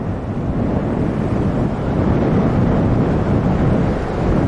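Strong Hurricane Gordon wind at Pensacola in 2018 roars and buffets the microphone in a continuous low rumble, with waves washing faintly beneath it.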